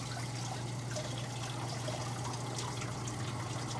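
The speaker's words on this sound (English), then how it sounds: "Okay, rinse your hands." Tap water runs in a steady continuous stream while hands are rinsed after shaving, with a constant low hum underneath.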